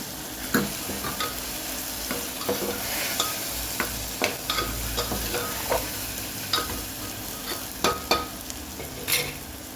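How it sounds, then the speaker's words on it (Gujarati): Coriander-cumin powder and salt stirred into a sizzling pan, a steady fry hiss punctuated by frequent sharp spoon clacks and scrapes against the metal at close range. "ધાણા જીરું અને મીઠું એડ કરીએ. સરસ મિક્સ કરી લઈએ."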